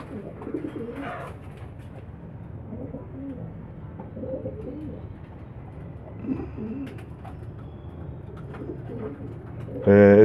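Young homing pigeon squabs coo softly and intermittently nearby, low murmuring calls with light rustling and a voice speaking at times.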